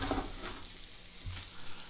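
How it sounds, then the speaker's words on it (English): Red tomatoes fry in a pan with a steady, close crackling sizzle that runs throughout, with a few louder pops and spatters along the way and no talking. "It's fried red tomatoes."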